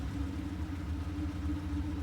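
A 1972 Lamborghini Miura sits idling, its engine giving a steady, low, even rumble close by, with no voices.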